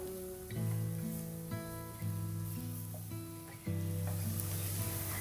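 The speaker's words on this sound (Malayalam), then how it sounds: "അതും കൂടി ആഡ് ചെയ്തിട്ട് ഒന്ന് ഇതിൻ്റെ പച്ചമണക്കൊന്ന് മാറുന്ന വരെ ഒന്ന് വഴറ്റിയെടുക്കാം." Ground chilli powder, pepper, garam masala and cumin sautéing in a pan for a shakshuka, a steady close sizzle that swells and eases with a few stirs, running alone without talk.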